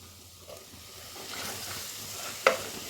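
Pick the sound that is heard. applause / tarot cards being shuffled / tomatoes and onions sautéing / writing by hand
tomatoes and onions sautéing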